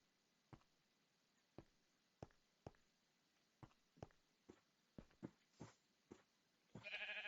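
Sheep bleats in Hungry World, a blocky Minecraft-style video game, come as a dozen short separate calls at uneven intervals, clear and alone against a quiet background, with a brief burst of noise at the end.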